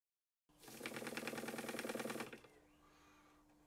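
A Stuart S50 model steam engine runs on low-pressure air, giving a quick, even mechanical chuffing and clatter for about two seconds before dropping to a faint steady hum.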